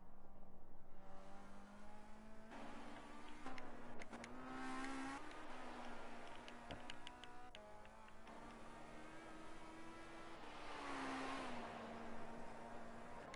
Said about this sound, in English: We've got a car starting a lap here.